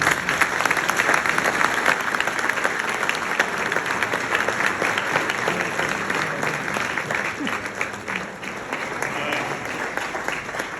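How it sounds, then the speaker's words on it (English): Guests at a gala dinner in the Sheraton Hotel, Zagreb, give a long, warm round of applause, a dense crowd clapping that stays strong before easing slightly near the end. "Please give a warm round of applause"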